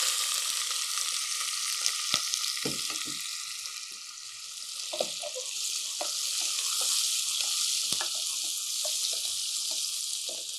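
Onions frying in hot oil in a home kitchen while a Tamil curry is prepared, giving a steady, close crackling sizzle with scattered sharp pops and a few stirring scrapes, and no voices.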